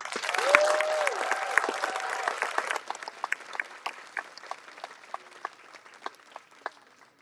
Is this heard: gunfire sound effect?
no